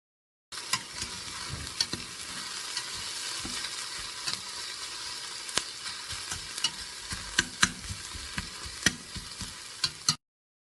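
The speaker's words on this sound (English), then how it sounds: "And then I'm just going to let that simmer." Onions and garlic sizzle and crackle in a pan, a steady frying hiss with scattered pops and occasional utensil taps, close and moderately loud, with no talking.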